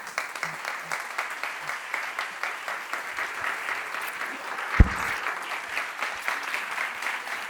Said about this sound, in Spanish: voy a pedir un fortísimo, fortísimo aplauso para Silvia Inchaurrondo.